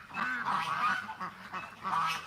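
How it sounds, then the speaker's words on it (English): A duck calls in a series of nasal, honking squawks, fairly close and steady over a faint outdoor background, with no talking. "I gotta catch this duck, and she's moving pretty quick"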